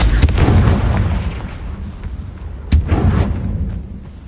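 Confringo spell explosions in Hogwarts Legacy, two loud close booms with a rumbling tail, the first at the start and the second about two and a half seconds later.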